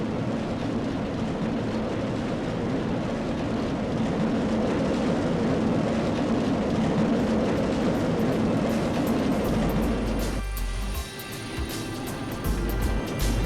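Roller coaster train from RollerCoaster Tycoon 3 rumbling along its track, a steady loud rolling roar with rattling that drops off and shifts near the end.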